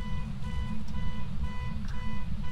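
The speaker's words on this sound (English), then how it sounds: "Do you want to go and do something about that car alarm, or should we just stay here?" A car alarm sounds in the horror game Phasmophobia as a steady, repeating electronic beeping tone. The pulses keep a regular rhythm over a deep, continuous low rumble.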